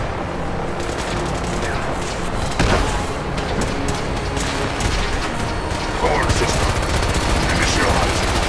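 Sustained gunfire in the video game Fallout 4, dense rapid shots and bursts with occasional heavier booms running throughout, loud and continuous, with a voice talking over parts of it.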